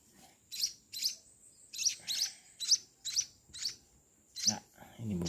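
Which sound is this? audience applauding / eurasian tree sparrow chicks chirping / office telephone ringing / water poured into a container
eurasian tree sparrow chicks chirping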